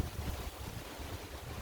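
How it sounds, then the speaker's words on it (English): Strong wind blows outdoors in late spring, a loud, rough buffeting roar across the microphone with gusty low rumbles and no speech. "Oh, it's so windy today."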